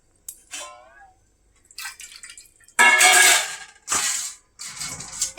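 In a home kitchen, an object tumbles with a few hard knocks and water splashes out, with several separate bursts of clatter and liquid noise and one louder splash in the middle.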